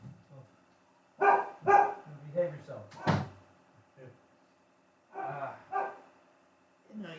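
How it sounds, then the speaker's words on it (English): A dog barking in short bursts of several close, loud barks with pauses between them, as someone speaks to it. "Is he barking at the landscape?"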